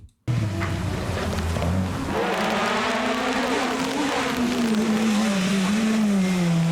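A Citroen C3 rally car revs hard, its loud engine note climbing and then holding a strained, steady drone close by, with tire noise beneath.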